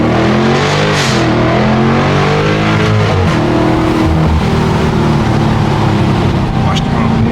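A 2023 Chrysler 300C with a muffler-delete exhaust revs and drones loudly up close, its raw engine note rising and falling, while people talk over it inside the car.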